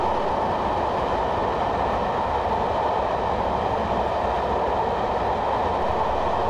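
A Class 421 electric multiple unit running between Brighton and London Victoria in Train Simulator 2015 rumbles along steadily, a continuous loud roar of wheels and motors with no break.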